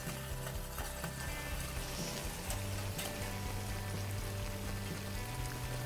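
Butter with a pinch of salt heats in a pan on medium heat for English toffee, giving a continuous close, even sizzle and bubbling under a steady hum, with no voices.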